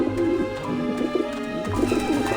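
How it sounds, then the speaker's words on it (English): Pigeons coo repeatedly around a dish vent in the video game Grim Fandango, soft throaty calls layered over a steady droning game ambience with no talking. "Ah, the pigeons obviously like this dish vent."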